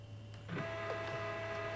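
An old desktop printer from a 1997 home computer setup starts up and hums steadily as it prints a file, a close, even mechanical drone with a few faint clicks and no voices.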